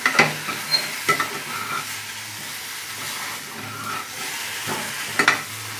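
Spiced corn tossed with plenty of fresh coriander in a hot pan gives a steady sizzle, with a few sharp scraping stirs of a spoon against the pan close by and no talking.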